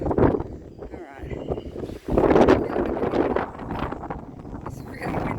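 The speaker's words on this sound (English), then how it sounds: "Oh, super windy up here." Strong wind buffets the microphone at an exposed hilltop summit, a steady rough roar with gusts, while a person speaks over it.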